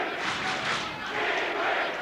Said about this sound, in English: The chant is going up.